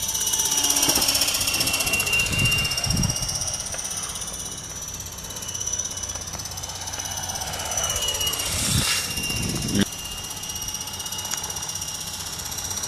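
An Eco 8 model helicopter flies outdoors in November, giving a steady whining rotor and motor drone with a high tonal line. Its pitch shifts as it maneuvers, with a couple of brief louder swells.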